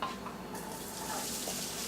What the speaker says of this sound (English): You might hear the sizzle.